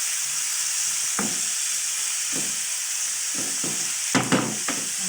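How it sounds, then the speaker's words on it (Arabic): Spinach with eggs and chicken sizzling in a pan, a steady loud frying hiss throughout with a few soft stirring scrapes and clatters, no talking. "نخليوه يتشخر بحال هكا حتى ينزل يتهبط"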